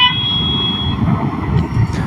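Distant truck horns from a trucker convoy in Quebec blare at the start and fade within a second, leaving a loud rumbling background.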